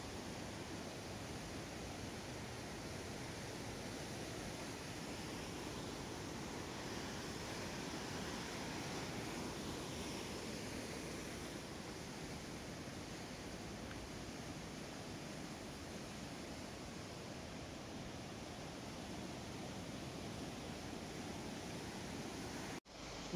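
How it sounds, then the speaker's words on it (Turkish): A small waterfall near Arhavi in Artvin pours with a steady, even roar of falling water, heard from some distance as a faint continuous wash without breaks or voices. "Şu görmüş olduğunuz tam orada şelale arkadaşlar."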